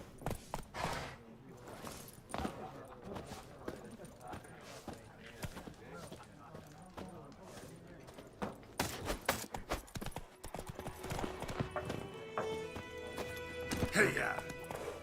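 Roach, the horse in The Witcher 3, gallops with steady clip-clop hoofbeats, and a rider's voice calls out over the pounding now and then.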